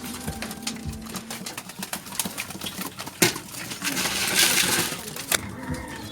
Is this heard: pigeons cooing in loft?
yes